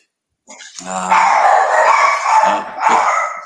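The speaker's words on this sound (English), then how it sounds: "Dogs are just gone mental." Dogs bark and howl loudly and close by in a burst of excited, overlapping yelps and bow-wows, breaking out after a moment of silence and continuing in rapid waves.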